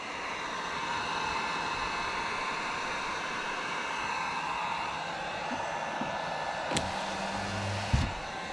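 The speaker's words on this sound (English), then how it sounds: "I'm not getting the heat gun very close at all." A heat gun blows hot air steadily onto a car window to soften and remove tint, producing a continuous, even broadband rush of air throughout, with a couple of faint clicks near the end.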